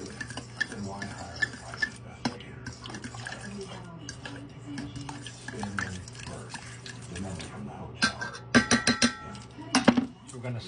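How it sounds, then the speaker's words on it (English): Noodles in a creamy sauce are stirred in a pot, with steady soft scraping and sloshing and a run of sharp clinks of a utensil against the pot toward the end, under occasional speech. "we're going to stir this up"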